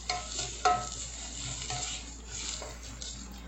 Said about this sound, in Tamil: வெங்காயம் வதங்கி வரணும்.